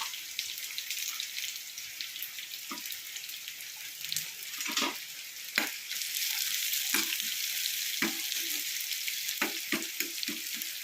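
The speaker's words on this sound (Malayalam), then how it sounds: "ഉള്ളി പച്ചമുളക് ഇഞ്ചി എല്ലാം കൂടെ ഒന്ന് വഴറ്റി" Quiet sizzling in a pan as onion, green chili and ginger sauté, with occasional clinks and scrapes of stirring breaking through the soft hiss.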